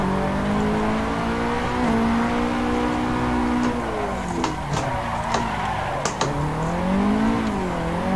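A Nissan 180SX drifts uphill in the Assetto Corsa racing game, its engine droning and rising and falling in pitch under shifting revs, with sharp tire chirps and squeals breaking in midway.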